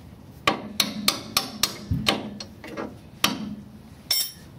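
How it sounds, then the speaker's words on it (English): Sharp metallic hammer strikes ring out during installation of a transmission in a vintage air-cooled Volkswagen bus, about a dozen close, loud blows in uneven bursts with short pauses between them. "Well, then hammer for this side."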